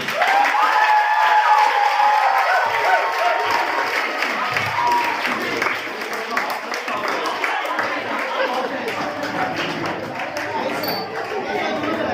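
A school debate audience applauding the principal's entrance, a dense wash of clapping and crowd chatter with a voice talking over it throughout.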